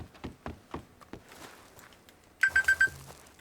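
Timer alert in Red Dead Redemption 2: after a few footstep-like thumps, four quick, evenly spaced ringing chimes sound close and clear, with no talk over them.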